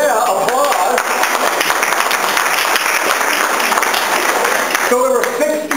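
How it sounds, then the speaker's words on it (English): An audience at a motivational talk breaks into loud, dense applause that runs steadily for several seconds, with a voice briefly heard at the start and again near the end. "Yeah, applause."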